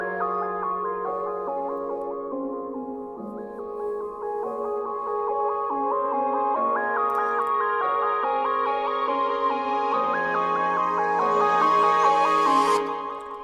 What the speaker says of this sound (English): a fruity love filter that comes in the beginning to give like that underwater effect